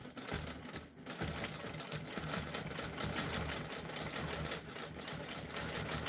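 A handlebar quilting machine stitches steadily along a ruler, its fast rhythmic needle clatter and motor hum running continuously and close, with no talking.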